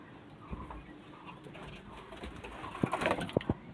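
Domestic pigeons kept at home, giving low soft coos and shuffling near the listener, faint at first and then a few louder bursts and taps toward the end, with no talking.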